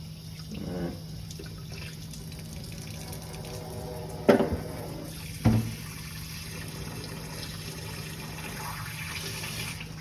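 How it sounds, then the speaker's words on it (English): Water runs steadily from a tap into a sink, a soft continuous splash with a couple of sharp clunks partway through. "make a little pretend bubble bath here in the sink"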